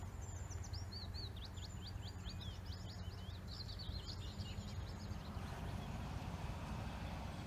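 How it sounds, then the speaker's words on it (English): Birds chirp and trill outdoors over a steady low rumble of wind or distant traffic, the high calls repeating for several seconds then fading out. "Just hear that wildlife, can't you? You know, birds singing and what have you."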